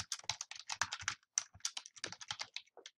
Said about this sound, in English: just type in How Learning Works